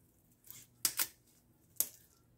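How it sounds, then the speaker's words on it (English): Kitchen shears snip through a scored chicken breast, a few sharp close crunching cuts in a quiet kitchen. "Take your shears and cut it in half."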